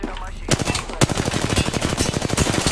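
Rapid automatic gunfire from the Apex Legends battle royale game crackles loud and close, with a short opening burst followed by a sustained stream of evenly spaced shots.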